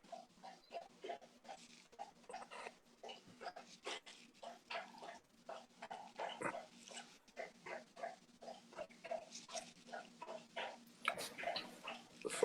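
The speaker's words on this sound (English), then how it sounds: "It sounds like dogs or something." Dogs bark again and again in the distance, a string of faint, short yelps and barks in an uneven rhythm that runs without a break over a low steady hum.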